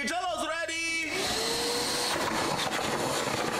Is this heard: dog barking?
no